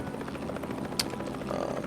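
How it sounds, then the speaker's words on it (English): A Rogue helicopter modeled on the Little Bird in Mercenaries 2: World in Flames, its rotor thrumming steadily at moderate loudness with a faint pulsing texture and a brief sharp click midway. "The Rogue, if any of y'all don't know, is based off of the Little Bird helicopter."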